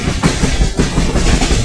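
A train rolling on the rails between Rajshahi and Chatmohar, a loud, close rumble with rhythmic clattering pulses repeating every fraction of a second.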